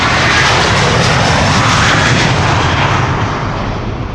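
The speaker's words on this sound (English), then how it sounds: "This is Delta Airlines Flight 47, attempting to take off to New York JFK." Delta Airlines Flight 47, an airliner bound for New York JFK, taking off at Amsterdam Schiphol, a loud, sustained engine roar that holds steady and then slowly begins to fade, with no voices.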